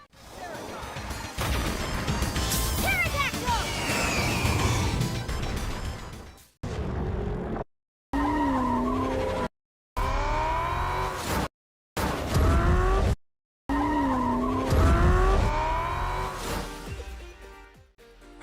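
Cars in the arcade racing game Horizon Chase 2 roar and screech through turns, with repeated tire skids and engine whines broken by brief silent cuts between segments, over game music.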